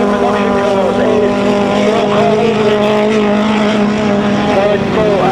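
Modified and production race cars roar around a sand racing track, a loud, continuous layered engine drone with shifting pitches. A commentator talks over the noise.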